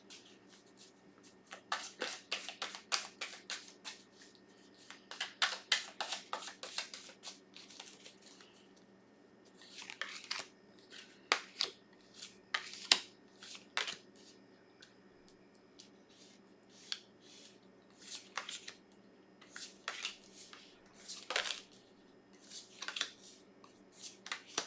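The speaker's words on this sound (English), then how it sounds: "I'm gonna throw some cards like I always do." Tarot cards shuffled by hand close up, soft riffling flutters and brisk slapping clusters repeating in irregular bursts over a quiet room hum, with no talking.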